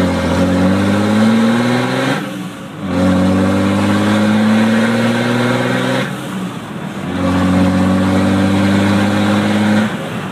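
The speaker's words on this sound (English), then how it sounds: "Turbo spools up nice." A 2004 Dodge Ram 2500 crew cab 4x4 with the 5.9 Cummins diesel and six-speed manual, heard from inside while accelerating through gears, the engine and turbo climbing in pitch with brief dips at each shift.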